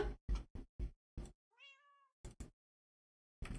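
Cats meowing inside a video game: one clear drawn-out meow sits in the middle, surrounded by a string of short, sharp percussive game effects separated by silent gaps.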